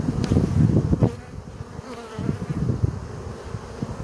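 Honey bees buzz steadily around hive frames in a dense, low drone, close by, with the hum swelling and easing throughout and no voices.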